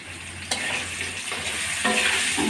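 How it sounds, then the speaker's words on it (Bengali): Potatoes fry in hot oil for a fish-curry side, a steady close sizzle with a sharp clatter of stirring near the start and a brighter crackle late on. "আলুগুলো লাল লাল করে ভেজে নেব আমি"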